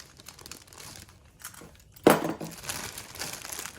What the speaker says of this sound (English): in this Ziploc bag of all the hardware